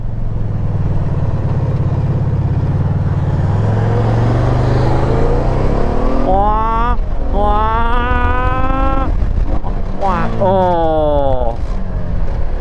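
A Honda PC800 shaft-drive motorcycle accelerates hard, its engine rising in pitch through a gear, then easing and climbing again, loud and close under wind rush, with someone speaking over it.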